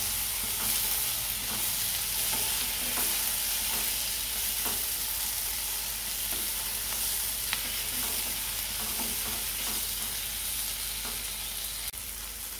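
Chopped tomato and ginger sauté in a pan with a steady, dense sizzle, and a spoon stirs it with soft, regular scrapes throughout. It stays close and continuous with no voices.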